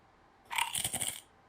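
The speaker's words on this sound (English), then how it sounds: "You don't like the sound of a chip crunch?" A potato chip is crunched once up close, a quick burst of crisp crackling lasting under a second against a quiet background.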